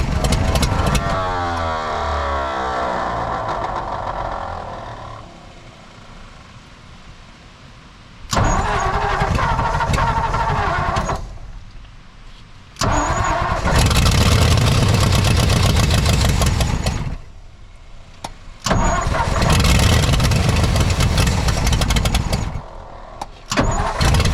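The weak starter of a 1959 Ford F-600 straight truck with a Y-Block engine cranks in three loud, sustained bursts separated by short silences. An earlier stretch of engine noise fades out before the first crank.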